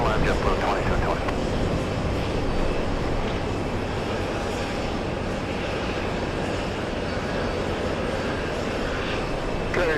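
A JetBlue airliner comes in to land on runway 22 left at JFK airport, a loud steady engine roar with wind noise dominating the whole stretch, and voices faintly present beneath.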